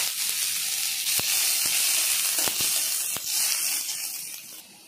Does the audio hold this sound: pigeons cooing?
no